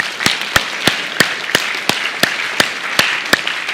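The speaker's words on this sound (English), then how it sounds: "A round of applause for that." Slow, evenly spaced claps ring out about three times a second during a lively physics lecture on quantum magic tricks, crisp and close with no talking.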